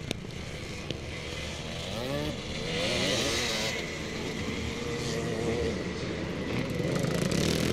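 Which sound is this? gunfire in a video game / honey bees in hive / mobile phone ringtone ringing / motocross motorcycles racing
motocross motorcycles racing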